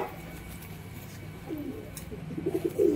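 Kolkata-line Giribaz pigeons give low, throaty coos that grow louder toward the end, over a hissy, noisy background.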